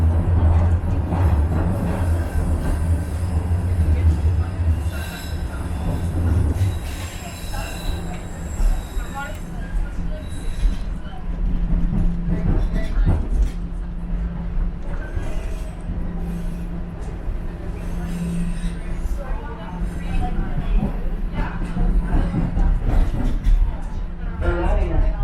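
A Toronto subway train ride, heard from inside the car: steady loud rumble of wheels on track with rising and falling tonal squeals and hums, while people chat throughout.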